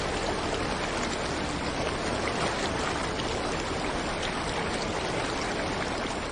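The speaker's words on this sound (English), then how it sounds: "Canada's second tallest waterfall is fed by the Daly Glacier's meltwater" Glacier-fed waterfall in Yoho, British Columbia, pouring down from Daly Glacier meltwater: a steady, loud, broadband roar of rushing water that holds constant without pause.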